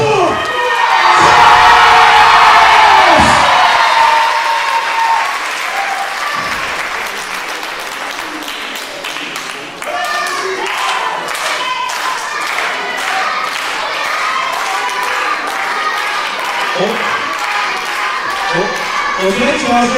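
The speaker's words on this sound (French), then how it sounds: "Mesdames et messieurs, un tonnerre d'applaudissements pour" At a wrestling event, a loud crowd applauds and cheers for a wrestler, with shouting and children's voices mixed into steady clapping. The noise swells at the start and keeps going without a break, and an announcer's voice cuts through in places.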